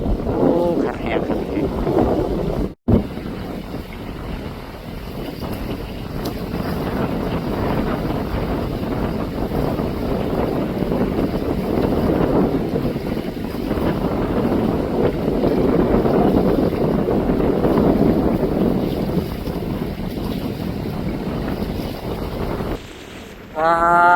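Strong wind buffeting the microphone on a Mekong riverbank in Vientiane, a continuous rushing roar with gusty swells that lasts throughout, with a boat and lapping water faintly beneath.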